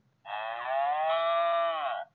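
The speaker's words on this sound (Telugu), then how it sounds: "కౌ ఏం చెప్తుంది నాన్న?" A cow lets out one long, clear moo lasting nearly two seconds, close and loud against a quiet background with no talking.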